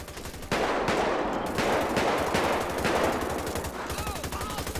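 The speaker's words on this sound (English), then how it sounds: "I hear a whole bunch of shooting" Rapid automatic gunfire in GTA 5 during a mission with Michael, Franklin and Trevor saving Lamar, sustained bursts of close shots with a brief lull at the start, under faint voices.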